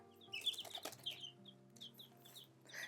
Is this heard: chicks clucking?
yes